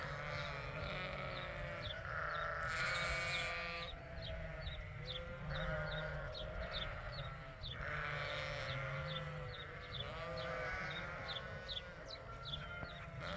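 A flock of sheep waiting to be sheared bleats repeatedly on a farm, many overlapping calls near and far over a steady background.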